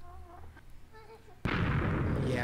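Enemies firing at the player in Minecraft: a voice talks briefly, then a sudden loud burst of blasting takes over and holds as a dense, sustained roar.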